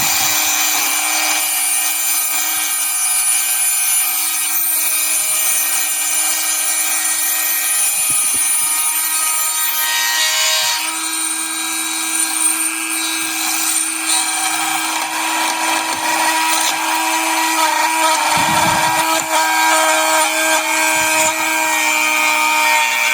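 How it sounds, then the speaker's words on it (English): A Dremel rotary tool cuts into wood for a deep trench trap, giving a steady, loud high-pitched whine with grinding texture that runs continuously and alone, with brief lower bumps as the bit bites in. "here we go with the Dremel again"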